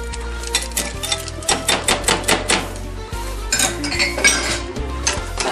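Pancake batter is mixed in a bowl, giving rapid, rhythmic clinks and taps of a utensil against the bowl, fairly close and loud over steady background music.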